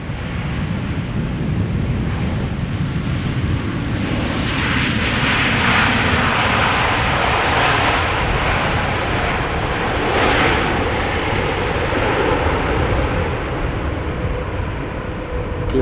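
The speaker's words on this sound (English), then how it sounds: "Dreamliner arriving from New York JFK." A Boeing 787 Dreamliner arriving at Schiphol Airport, a loud continuous jet engine roar with a broad rushing hiss and some wind noise, holding steady throughout.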